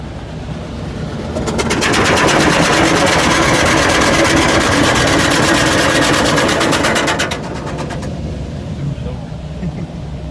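Automatic car wash wheel blaster spraying a car's wheels: a loud, steady high-pressure hiss with a rapid mechanical chatter, starting about two seconds in and cutting off near eight seconds over a constant machinery rumble.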